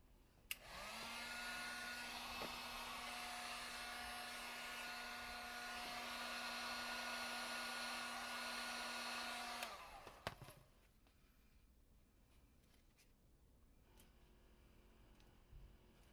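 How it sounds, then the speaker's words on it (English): Heat gun heating and shaping cosplay mask pieces: a steady electric whir and blowing hiss starts after a click, runs evenly for about nine seconds, then shuts off, leaving quiet room sound with a few small knocks. "next is going to be using a heat gun to heat and shape all this"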